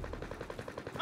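Rapid machine-gun bursts in Call of Duty: Modern Warfare, a steady rhythmic string of shots close up, ending with a brief sharper tonal sound.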